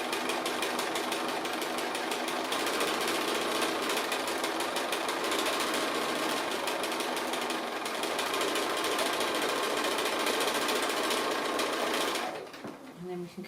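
Sewing machine stitching a cat appliqué, a steady fast mechanical whir and needle chatter running close and loud for about twelve seconds, then stopping abruptly.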